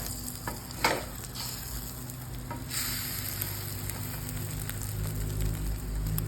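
Scrambled egg cooks in a pan, making a soft, steady sizzle with light scraping and stirring close by. There are a couple of sharper clicks near the start, and no speech.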